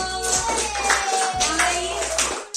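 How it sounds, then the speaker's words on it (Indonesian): A classroom of students claps for a classmate, two dense bursts of applause under a steady low hum, with children's voices mixed in. "Tepuk tangan untuk Tito."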